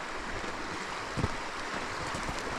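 Small stream trickling into a main river beneath trees, a steady broadband wash of flowing water close by, with a brief louder splash in the middle and no talking.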